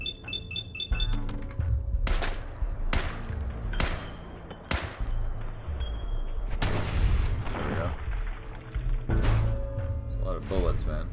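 Video game gunfire crashes out in several sharp, loud blasts spaced a second or two apart, over rumbling background noise with occasional clinks and a voice talking.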